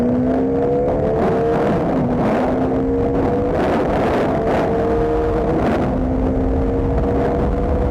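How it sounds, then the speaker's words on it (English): Bajaj Dominar 400 motorcycle accelerating hard, a loud continuous engine drone whose pitch climbs and drops back through several gear changes, with wind rush over the microphone and no voices. "So let's just accelerate and see how it actually feels to accelerate on this motorcycle."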